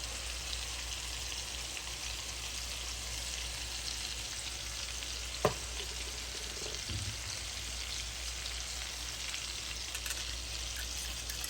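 Onion and mushrooms sizzle in a frying pan while a burger is turned into a steak dish, making a steady hiss with one sharp clink midway and no talk.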